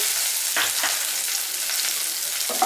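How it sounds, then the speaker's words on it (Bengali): Black cumin, halved dried red chillies and chopped garlic fry in hot oil with a steady close hiss and sizzle, a few stirring scrapes breaking through, no voices. "ফোড়নটাকে দশ পনেরো সেকেন্ড তেলের মধ্যে খুব ভালো করে আমি ফ্রাই করে নিচ্ছি"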